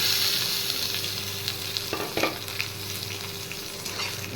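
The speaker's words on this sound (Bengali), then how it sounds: "চাল একটু ভেজে নেব" Washed Gobindobhog rice frying in a pan with onions that were already browned: a steady close sizzle with soft stirring scrapes throughout, no voices.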